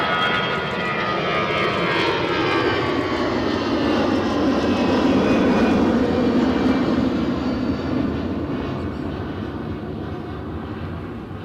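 An Emirates jet airliner at Edinburgh Airport, a loud, steady engine roar that swells through the middle and slowly fades toward the end, with no voices.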